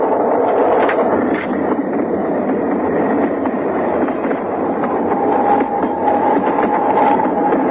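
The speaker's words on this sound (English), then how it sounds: "I have to see the train go by." Train going by: a continuous rumbling roll of wheels on rails with faint rhythmic clatter and a thin squeal near the end, loud and steady throughout with no speech.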